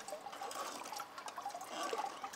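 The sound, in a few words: water draining through a mesh sieve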